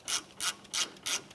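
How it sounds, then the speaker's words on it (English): A ratchet with a 14mm socket tightens brake caliper bolts on a 2011-2016 Hyundai Elantra, giving four evenly spaced bursts of quick clicking, close and fairly quiet. "with our 14mm socket, we'll tighten these down"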